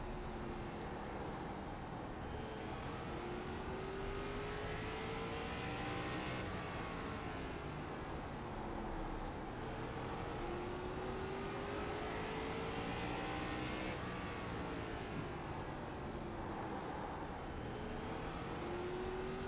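Race car engine lapping an oval in the iRacing video game, a continuous droning roar with pitch rising and falling through repeated gear and throttle changes, steady and fairly quiet throughout.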